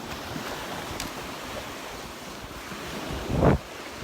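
Ocean surf washing onto the sand at Crystal Beach in Destin, Florida, a steady wind-blown wash with one louder wave breaking near the end.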